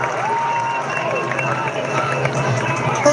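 A crowd at a women's Australian rules football match between Richmond and Geelong cheers a Tigers goal in Melbourne, a steady, fairly loud roar of cheering and applause with a few whistles, holding level for several seconds.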